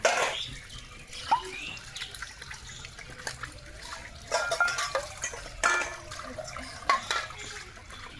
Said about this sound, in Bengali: তখনই আমার এক গাদা থালা বাসন ধুতে হবে